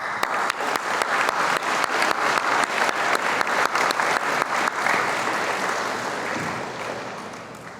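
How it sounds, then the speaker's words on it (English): Audience applause fills a school district convocation hall, a broad sustained roar of many hands with a rhythmic group clap pulsing through it, fading gradually toward the end. "Give yourselves another round of applause."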